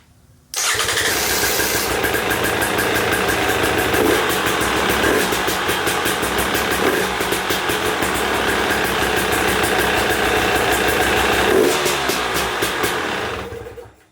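A KTM 300XC two-stroke dirt bike engine starts up and runs at a steady, loud idle for most of the fourteen seconds, then cuts off near the end.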